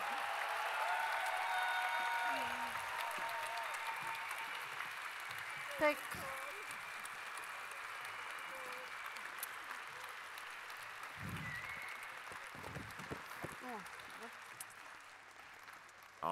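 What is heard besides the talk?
audience applause for performers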